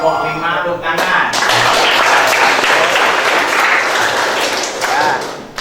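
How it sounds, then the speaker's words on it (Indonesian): A classroom group bursts into steady applause, many hands clapping together at close range for several seconds before the sound fades, with some voices mixed in. "Kelompok 5 tepuk tangan."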